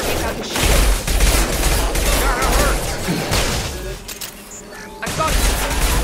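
Sustained bursts of gunfire in the Mass Effect 2 video game, loud and continuous with booming impacts and mechanical clatter, easing briefly near the end before resuming.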